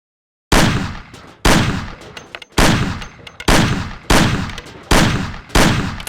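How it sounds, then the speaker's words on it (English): Six evenly spaced, loud gunshots ring out at a shooting range in the PC game Mafia as a player fires a handgun at cans set on a table, each sharp crack followed by a decaying tail, with no talking. "Shoot the cans off of the table."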